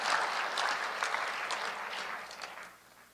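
A church congregation applauding during a sermon, a dense, loud burst of clapping from many hands that holds steady and then fades out toward the end, with no talking.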